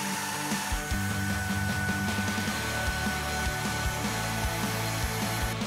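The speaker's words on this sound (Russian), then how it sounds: "Из-за слабого режима всасывания некоторая стружка вылетает вперед через валик." A Redroad V17 cordless vacuum cleaner runs on its weak eco suction mode while sucking up wood shavings, giving a steady, close motor whine with rapid rattling ticks as chips are pulled in or flung forward past the roller.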